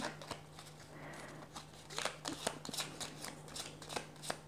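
Oracle cards being shuffled for a tarot reading: a close, steady run of papery riffles and soft flicks, coming in quick bursts with no one talking.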